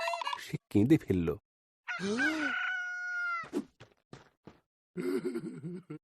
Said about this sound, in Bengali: যখন সে ভোরবেলা মোরগের ডাক শুনতে পেল